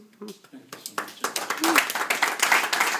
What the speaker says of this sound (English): Applause for Councilman Peter Murray, his last meeting this year, last meeting as councilman